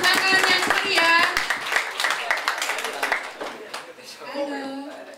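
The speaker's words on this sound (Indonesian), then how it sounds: "Kita beri tepuk tangan yang meriah" Audience at a school student council chairperson (OSIS) election event clapping for candidate number 4, steady hand claps with overlapping voices and cheers throughout, fading slightly near the end.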